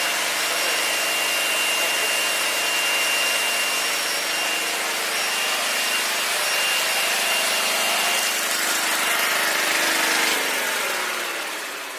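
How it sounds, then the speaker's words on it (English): A brushless generator runs loud and close with a continuous, steady whirring drone carrying faint high whine tones, holding level for the whole stretch before easing slightly at the end. "Now this generator has no brush."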